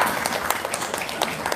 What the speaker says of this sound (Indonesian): tepuk tangan dong dari Padang